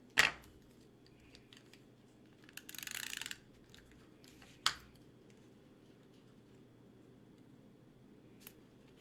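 Scissors snipping Stampin' Up Peaceful Place designer paper for a handmade card: a few crisp close cuts, including one longer rasping slice, spread across a quiet room.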